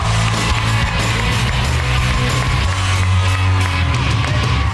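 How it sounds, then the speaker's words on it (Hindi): A game show studio audience cheers, whoops and claps in a dense, loud, continuous roar that fills the room without letup. "बहुत सारी तालियां मुस्लिमीन के लिए।"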